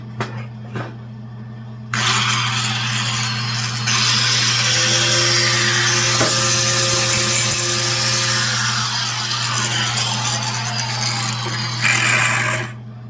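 An 18-volt cordless grinder with a flap disc cuts through tack welds on a Jeep XJ Cherokee, whirring up into a sustained, loud, gritty grind that runs for about ten seconds over a steady electrical hum before spinning down.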